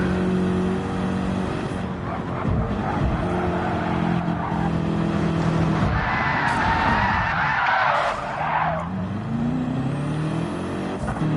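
A race car in a racing game spins out at the Skyline corner, tyres squealing and skidding loudly over a steady engine drone, with the engine note rising and falling as the car slides.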